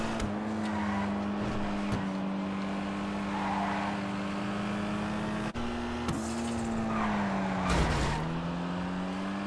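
A Dinka Blista Kanjo, a front-wheel-drive hatchback, driving through traffic in GTA Online: a steady, droning engine note held at constant pitch, briefly dipping and rising with gear or throttle changes, with passing whooshes and a faint tire squeal.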